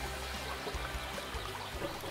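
Steady rushing of water on the Itaufili river during rafting, a constant broadband wash that is fairly faint and distant, with no voices.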